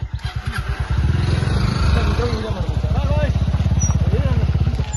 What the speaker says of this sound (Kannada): ಕೊನೆಗೂ ನಮ್ಮ ಗಾಡಿ ಇರತ್ತೋ ಬಂದು ಓಹ್ ಹೊಸ ಗಾಡಿ